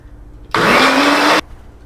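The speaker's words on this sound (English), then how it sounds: "Isn't that a cool little blender?" A small single-serve personal blender whirs loudly for about a second, a steady high-pitched motor roar that starts and stops abruptly, alone with no talk over it.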